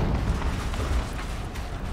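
An explosion in the video game Horizon Zero Dawn, a sustained heavy low rumble with faint creaking debris above it, steady and loud throughout.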